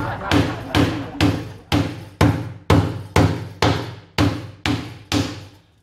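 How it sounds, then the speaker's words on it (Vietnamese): A hammer pounds lemongrass stalks in a kitchen while a Halloween dish is prepared: about ten heavy, evenly spaced thuds, each roughly half a second apart, close and loud with nothing else heard. "Và cái búa để làm gì? Đập con mắt hả? Không phải, đập cái sả."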